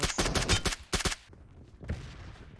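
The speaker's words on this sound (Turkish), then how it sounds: "Bot bota mı sıkıyor şu an yoksa sana mı sıkıyor?" Rapid bursts of gunfire from a bot in the battle-royale game PUBG, several sharp shots in quick succession at the start, then fainter scattered shots trailing off.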